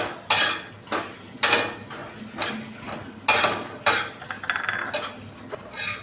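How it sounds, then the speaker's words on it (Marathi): Fennel seeds roasted and stirred in a pan for pickle, with repeated loud scraping and rattling strokes of a spoon against the metal in irregular bursts, no voices. "मग आपण बडीशोपा भाजून घेऊया थोडं थोडं भाजून घ्यायचं"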